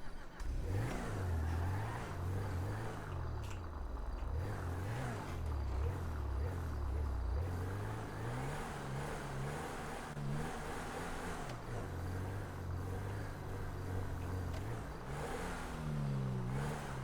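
Car engine in the GTA 5 video game revving and accelerating through gear changes during a driving test, a steady mid-range drone with rising and falling pitch sweeps, loud and continuous throughout.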